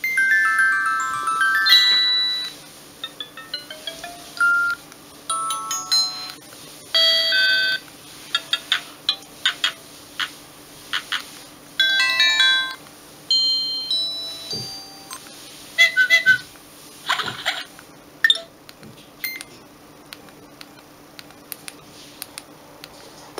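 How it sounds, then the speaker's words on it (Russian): A series of short electronic message alert tones from a Samsung X100 mobile phone, played one after another through its small speaker: beeping, chiming melodic snippets separated by brief pauses, with no talking. "Так, ну и звуки сообщений давайте посмотрим."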